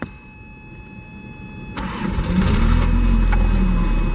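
A 1986 Toyota MR2 with the 4A-GE engine starts up: a quiet interior with a faint buzzer tone, then the starter cranks and the small four-cylinder catches into a steady, close idle.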